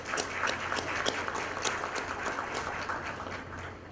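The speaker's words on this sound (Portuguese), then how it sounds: "Peço uma salva de palmas para ela." Audience applauding a panelist being welcomed on stage at a Brazilian conference on chatbots and generative AI, steady dense clapping held for a few seconds at moderate level.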